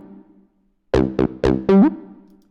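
A Roland TB-303 style bassline plays a short run of squelchy synth notes, a few clipped staccato steps followed by a sustained note that glides smoothly up in pitch into the next step, clear and alone after a brief quiet gap.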